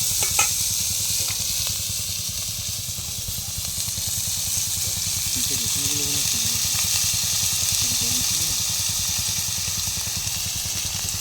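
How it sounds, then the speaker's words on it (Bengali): Onions and garlic frying in a pan at an outdoor picnic beside the Sundarbans forest, a continuous loud sizzle and hiss with a low rumbling background and faint stirring taps. "আমাদের এখন পেঁয়াজ রসুনগুলো একটুখানি আগে ভাজা করে নিচ্ছে।"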